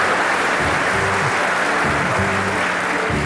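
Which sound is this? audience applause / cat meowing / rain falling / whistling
audience applause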